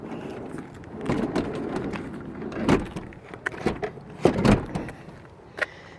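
The power ramp on a 2004 Chevy Venture wheelchair mobility van folds up with a motorized whir broken by several sharp mechanical clunks and knocks, fairly close and with no speech.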